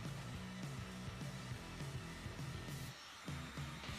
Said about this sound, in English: or I like to use my heat gun